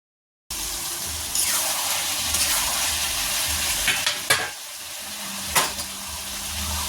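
Marinated chicken starts frying in a pan with a sudden loud, steady sizzle, then a couple of stirring scrapes, close and bright, no talking.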